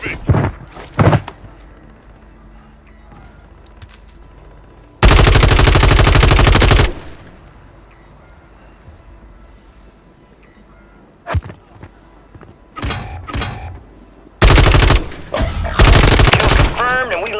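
Gunfire in the video game Call of Duty Warzone 3, loud sustained automatic bursts and single shots breaking through quieter stretches, near and sharp, with brief in-game voice lines.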